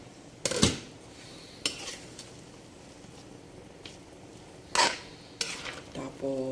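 Metal spoon scraping and clanking against a pot as chicken simmers in coconut milk, several sharp knocks spaced apart over a soft bubbling background, with no talking.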